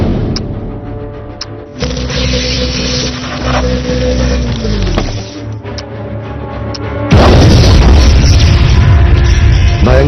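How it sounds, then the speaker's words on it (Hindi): A loud, deep blast as a lab explodes in a film, followed by a sustained roar of rumbling debris, with lower rumbling and hum before it. "भयंकर विस्फोट हुआ"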